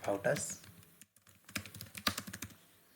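Typing on a computer keyboard during a live coding session: uneven bursts of close key clicks and clacks, some louder taps standing out, with a brief pause before the keystrokes resume.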